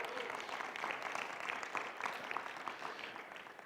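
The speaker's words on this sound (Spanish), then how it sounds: "Dele un fuerte aplauso al Señor." Congregation clapping during a church service, a fairly faint, steady wash of applause from a crowd, alone without talk.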